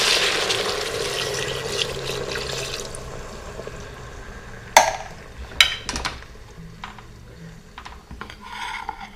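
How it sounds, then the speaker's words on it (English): Beef stock poured into an electric pressure cooker for Irish lamb stew, a steady liquid stream at first that tapers into scattered drips and clinks. "we can pour in the beef stock"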